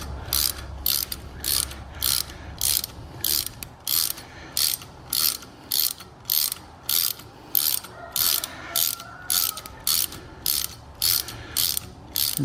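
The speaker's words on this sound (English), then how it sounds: "I'm going to take an Allen wrench and I'm going to take the screw out here that holds the spring in" An Allen wrench works out the screw holding the spring in a Power Team SPX hydraulic cylinder, giving a regular series of sharp ratcheting click bursts, roughly two per second, close and fairly loud with no talk.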